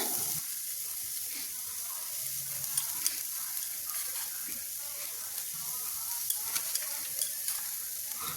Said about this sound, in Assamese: অকনমান খালি ভাজি পেলাই মই কাঢ়ি থৈ দিম